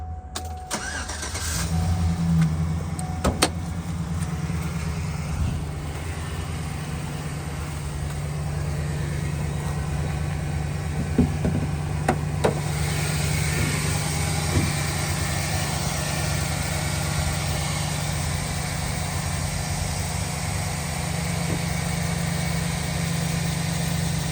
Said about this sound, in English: turn this on and let you hear how the motor sounds